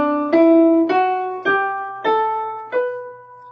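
A B Phrygian scale is played as five separate plucked notes rising one by one at an even, unhurried pace, each ringing out and decaying before the next, close and clear with no voice.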